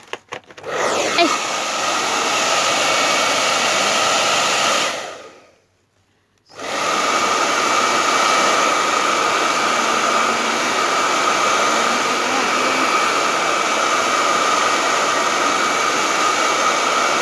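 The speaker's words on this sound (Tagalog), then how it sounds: "ang blower" New hair dryer blowing steadily and loudly at close range, a continuous airy roar that cuts out briefly for about a second and then resumes for a long stretch.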